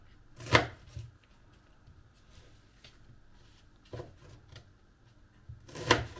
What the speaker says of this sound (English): half a red onion we're going to chop up